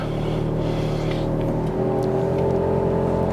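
A 2008 Ferrari 430 Scuderia engine runs close by, a dense steady rumble that shifts tone slightly partway through, with no voices.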